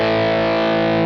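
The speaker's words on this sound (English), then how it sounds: "That's that really high gain compressed overdrive sound." A single loud, sustained chord rings out on electric guitar at full volume through a Red House Electronics Eagle Feather high-gain overdrive pedal, thick, compressed and saturated, holding steady for about a second.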